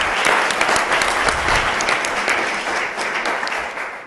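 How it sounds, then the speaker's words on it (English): An audience at a civic forum gives students another round of applause: dense, steady clapping from a large crowd, fairly loud and close, tapering slightly toward the end. "let's give them another round of applause"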